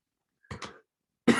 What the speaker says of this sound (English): Just a dry cough.